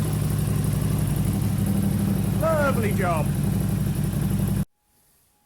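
An Aprilia RS660 sport motorcycle with an Arrow titanium aftermarket exhaust idles with a deep, throaty burble, then cuts off abruptly near the end; someone speaks briefly over it.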